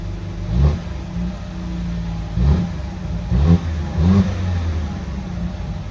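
A Mercedes CLA 45 S AMG engine gives four quick throttle blips over a rumbling idle, each rev a short, punchy rise that drops straight back, heard close and fairly loud.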